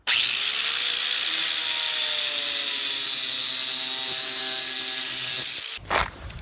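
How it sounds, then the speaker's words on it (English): An angle grinder cuts across the bottom of a metal PC case front panel with a loud, steady, high whine and gritty hiss lasting over five seconds before spinning down, followed by a short clunk. "For this cut, I'll be using an angle grinder."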